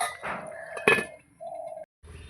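A metal lid set onto a cooking pot while fish and young bottle gourd curry simmers, one sharp ringing clink amid softer kitchen knocks and a brief hum.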